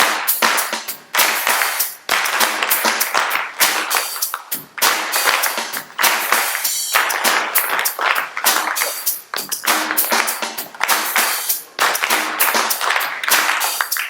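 A group claps a rhythm exercise with upbeats during a music lesson, producing loud, sharp, tightly synchronized claps in a steady pattern that runs continuously with brief gaps between phrases.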